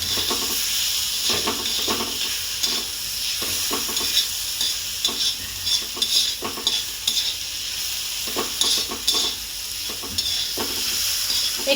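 Ground ridge gourd, garlic and green chili paste sautés in a pan with a loud, continuous sizzle, broken by repeated scraping stirs of a spoon.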